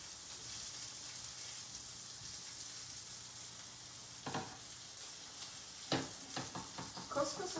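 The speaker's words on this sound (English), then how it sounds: "You want to make sure you have a hot pan so you can sear this well." Cod fillet searing in a hot pan, giving a faint, steady sizzle and hiss throughout. A few soft knocks and scrapes from cookware come in toward the end.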